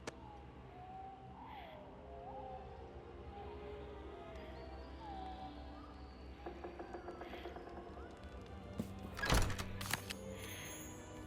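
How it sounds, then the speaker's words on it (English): A treasure chest opens in the Demeo x Dungeons & Dragons: Battlemarked tabletop video game, a brief sharp creak and clunk near the end that rises over a steady bed of soft ambient fantasy music. "To open the chest, move your hero on top of it."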